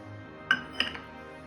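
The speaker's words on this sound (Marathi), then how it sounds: "बर्फाचे तुकडे" Two sharp clinks of ice cubes dropping into a hard mixer jar, a brief rattle after the second, in an otherwise quiet setting, while making sugarcane juice.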